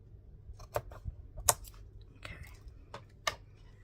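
Paper snipped with scissors during art journaling: a few quiet, crisp cuts spaced irregularly over several seconds, close by in a hushed room.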